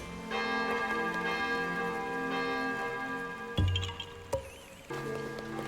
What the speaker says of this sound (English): next Korok seed on the hit list is Ring the Bell